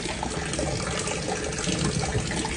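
Water from a drainage system streams into a pump pit, making a loud, steady rushing and splashing that fills the whole stretch without a break.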